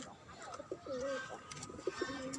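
Pigeons kept on a rooftop garden coo in short, rising and falling phrases, a few distinct calls spaced through the moment against a light outdoor background.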